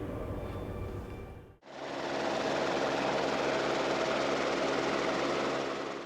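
A Lama helicopter's turbine engine and rotor give a continuous droning whine that cuts out briefly, then returns louder and steady.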